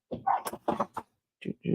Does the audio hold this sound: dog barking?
yes